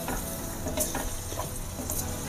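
Homemade ghee and milk solids bubble and sizzle softly in a pan while being stirred, a low, continuous crackle with faint scraping touches.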